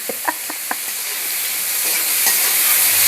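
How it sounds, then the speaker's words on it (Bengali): Sliced onions frying in a small amount of oil for a light mutton curry, giving a loud, steady hiss-sizzle with a few quick stirring clinks at the start. "এইভাবে লাল লাল করে ভেজে নিতে হবে।"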